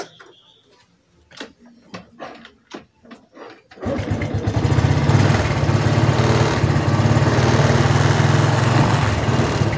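A Honda Revo Fit fuel-injected motorcycle engine with a fault that makes it stall when throttled is started after a few clicks, then runs loudly and steadily up close for several seconds.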